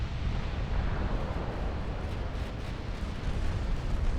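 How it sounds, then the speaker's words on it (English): A torpedo strikes a warship in the naval game Ultimate Admiral Dreadnoughts, a sustained, heavy, rumbling roar of explosion and surging water that fills the whole stretch without letup. "That sounded like a torpedo hit somewhere."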